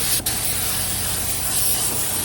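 Sealer sprays onto the body of a 1984 Chevrolet C10 in one continuous, close, loud hiss with no voices.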